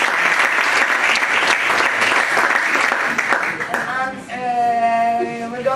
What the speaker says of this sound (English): We'd like to applaud him.